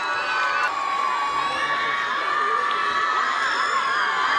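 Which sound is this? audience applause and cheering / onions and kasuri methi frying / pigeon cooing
audience applause and cheering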